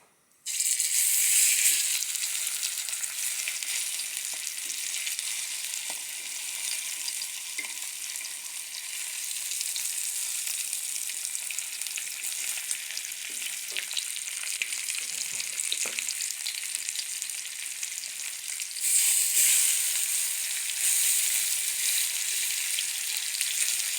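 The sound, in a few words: chicken pieces frying in hot oil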